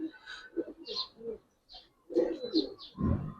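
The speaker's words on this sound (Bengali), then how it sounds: "এগুলো রোড মাস্টার কবুতর ভাই" Road Master pigeons coo close by in a run of soft, throaty bursts with brief pauses between them, ending in a fuller, louder coo.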